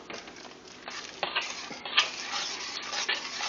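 Vegetables stirred in a soup pot, with a continuous scraping, sizzling texture and a few louder knocks of the utensil, close and fairly quiet, no voice over it.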